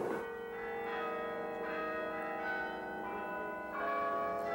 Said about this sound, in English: The beauty and majesty of the Carillon's bells will continue to inspire the residents of Simcoe for years to come